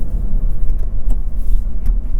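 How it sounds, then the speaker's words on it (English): A 2017 Nissan Titan XD single-cab SV pickup with a Cummins diesel engine drives along. A loud, close low rumble from the engine and road noise fills the cabin, with no voices. "Let's take this thing for a little drive."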